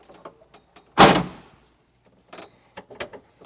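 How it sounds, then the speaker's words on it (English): A 1995 Ferrari F355 Challenge factory race car's door shuts with one loud, close thud, followed by faint scattered clicks and small knocks as someone moves about the car. "Let's close this door, jump inside it, and take it for a spin."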